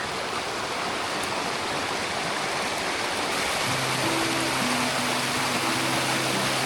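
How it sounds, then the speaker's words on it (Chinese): A mountain stream on the Tour du Mont Blanc trail at about 1300 metres rushes steadily, a dense close hiss of flowing water throughout, with a faint low hum joining partway. "过小溪"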